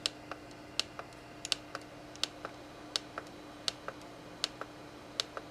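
Quiet, crisp clicks of arrow keys being pressed on the control panel of an SWF embroidery machine, about fifteen separate taps spaced irregularly, some in quick pairs, with a faint steady hum underneath.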